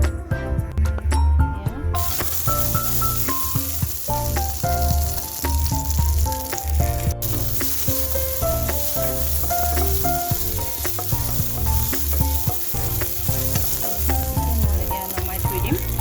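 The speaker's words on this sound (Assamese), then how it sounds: "কিচমিচ মই এতিয়া অকণমান ফ্ৰাই কৰি ল'ম।" Raisins fry in a little hot oil in a pan on a gas stove for an Assamese recipe, producing a continuous, close, steady sizzle with occasional stirring scrapes.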